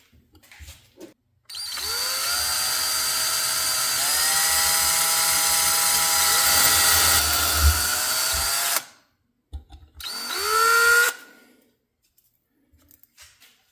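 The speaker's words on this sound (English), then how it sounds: "I'm going to drill it out one more to 9/64" A drill whines steadily for about seven seconds, its pitch dipping as it bites into a brass plug on a John Deere carburetor, then stops; a second short burst of drilling follows after a pause.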